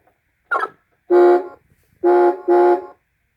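A 2002 Toy State Chevrolet SSR toy car sounds its horn: one short squawk, then three loud, buzzy honks, the last two close together, each standing out alone against silence.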